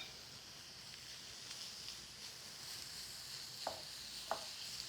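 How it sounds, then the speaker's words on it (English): Zucchini stirred into sizzling onions in a pan, giving a faint, steady sizzle with a few soft clicks of stirring near the end, with no talk. "Now I'm going to add my squozen zucchini right in there and just stir it quickly"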